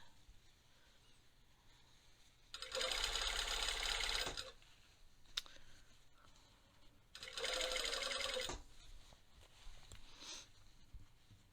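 A sewing machine stitching the narrow facing around a dress neckline, two steady whirring runs of about two seconds each separated by quiet pauses, close by and clear, with a faint click between them.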